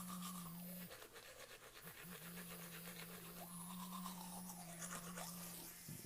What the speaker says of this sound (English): Turn on my toothbrush.